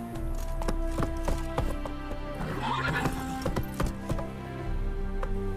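Hooves of a horse in The Witcher 3 clip-clop in a steady galloping rhythm with occasional whinnies, loud and close over layered game music, with no talk.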